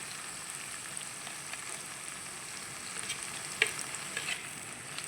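Tomato frying with ginger garlic paste in a pan gives a steady, even sizzle with a few small pops and crackles near the end. It is heard alone, with no voices.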